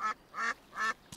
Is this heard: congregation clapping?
no